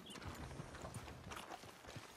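Horse hooves clip-clop in a steady walking rhythm in the Red Dead Redemption 2 video game, faint and alone with no voices.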